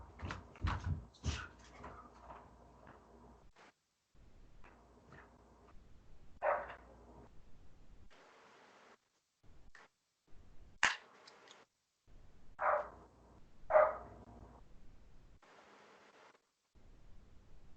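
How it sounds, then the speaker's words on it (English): A small dog barking indoors in bursts of sharp, close barks with quiet gaps and a few whimpers between them, alone with no talking. "little dog's acting a fool."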